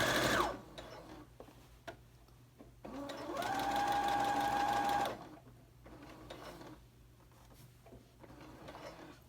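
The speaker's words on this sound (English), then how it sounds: "Begin sewing and backstitch. And we're going to keep sewing until we get to this top notch in the pocket." Sewing machine stitching a pocket seam on a wrap coat, with a short whir, then a sustained steady run of a couple of seconds, then quieter handling noises, heard up close without speech.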